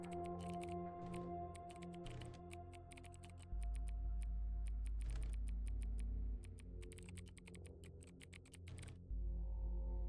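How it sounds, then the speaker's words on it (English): Random keys clicked rapidly on a computer keyboard while playing Midnight Protocol, a dense, irregular patter of close taps over a low electronic hum, with short pauses between bursts. "So that's me just clicking random keys"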